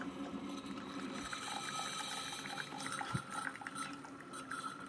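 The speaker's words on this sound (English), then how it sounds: "it'll do a real quick shoot of hot water through the K-cup also" Mr. Coffee Duo combo brewer forcing a quick burst of hot water through a K-cup, a steady gurgling, hissing liquid rush with bubbling pops, close and continuous at moderate level.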